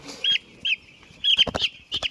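Chickens cluck in short bursts on a poultry farm, a few separate calls and then a quicker run of clucks, close by and clear.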